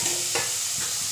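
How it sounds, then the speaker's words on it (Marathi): Onion sautés in a pan, a steady close hiss of frying with a couple of soft stirring scrapes in a short burst, no voices. "तो कांदा थोडा लालसर होईपर्यंत परतवला जाईल."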